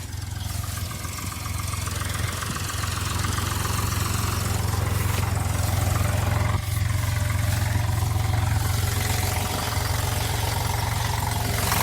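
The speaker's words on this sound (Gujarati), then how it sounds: "ટ્રેક્ટર આવી ગયો હળવા." A tractor engine idles and runs steadily at a cotton field before ploughing, making a low, constant mid-pitched rumble with a faint rattling vibration and no speech.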